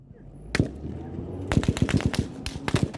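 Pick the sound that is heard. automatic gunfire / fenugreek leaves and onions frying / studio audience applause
automatic gunfire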